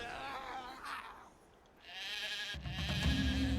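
Sheep bleating in the video game Titan Quest in wavering, drawn-out cries, a couple of calls separated by a brief lull, with a low hum building near the end.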